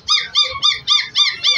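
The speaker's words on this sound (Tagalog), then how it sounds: "Ay, malaking aso ito." A Labrador at a pet shop gives a run of six quick, high, squeaky yelps in an even rhythm, loud and close, with no talking over them.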